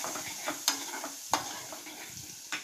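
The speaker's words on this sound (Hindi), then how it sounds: "लहसुन डालेंगे और इसको सौते करेंगे" Garlic sautéing in butter with a little desi ghee for creamy mushroom soup, a steady soft sizzle with a few sharp spoon clicks against the pan, close and alone without talk.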